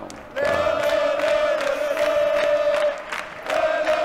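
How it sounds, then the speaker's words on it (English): Stadium crowd in Football Manager 2021 chanting in sustained, sung waves, loud and continuous with a brief dip partway through, with no talk over it. "Yeah, see the crowd here. They're going mental."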